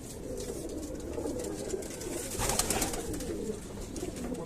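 Pigeons cooing softly in a loft, a few low, rounded coos rising and falling close by, with no talk over them.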